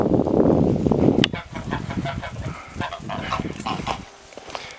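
Geese on a farm pond honk and cluck in a busy, close flock, with repeated calls over splashing and shuffling, one sharp squawk standing out early before the birds quiet near the end.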